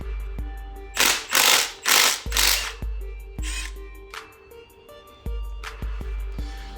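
A hand tool works a bolt on an RB25DET engine bottom end, giving close ratcheting clicks and sharp metallic knocks in short separate bursts, with a couple of louder scraping rasps early on.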